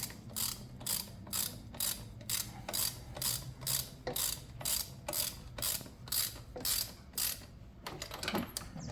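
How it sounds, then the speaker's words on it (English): A ratchet wrench clicks steadily while tightening the cylinder head bolts on a Kymco Vibe scooter engine during a seized-engine repair, rapid ratcheting bursts repeating in an even rhythm, close and clear, with no voices. "I'm going to gently start to tighten these."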